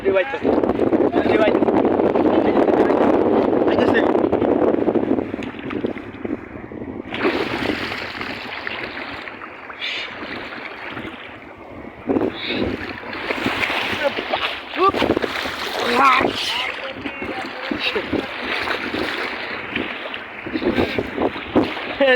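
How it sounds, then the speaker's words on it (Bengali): Big sea waves toss a boat in strong wind, a loud continuous wash of water and gusting wind noise across the microphone, with surging swells and splashes throughout and occasional voices underneath. "প্রচুর বড় বড় ঢেউ"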